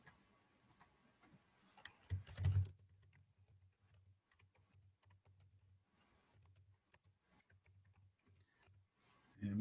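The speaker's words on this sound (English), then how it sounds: "I guess I can just type that." Keys clatter on a computer keyboard, with faint, sparse clicks and one brief louder burst, quiet throughout.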